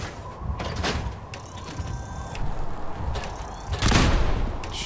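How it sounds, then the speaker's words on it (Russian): Two sharp gunshot blasts in Fallout 4, one early and a louder one near the end, over a steady rumbling background with faint mechanical clatter. "Хороший выстрел, да?"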